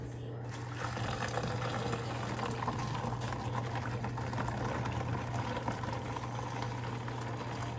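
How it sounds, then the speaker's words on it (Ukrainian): A litre of water rushes continuously into a pot, close and fairly loud, with a low steady hum beneath it. "І заливаємо літр води."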